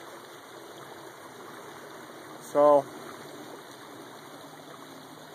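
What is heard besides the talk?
American River flowing, deep river stream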